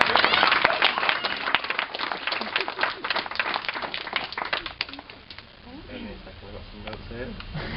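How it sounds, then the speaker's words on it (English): Wedding guests at Adele and John's 2007 reception break into lively applause, many hands clapping densely and loudly, then fading as a voice begins talking. "I want to give her a round of applause"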